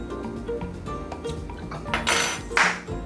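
A fork clinks and scrapes against a dish while dressing for a spinach salad with bacon drippings is whisked, producing a run of close, bright metallic taps that grow louder near the end.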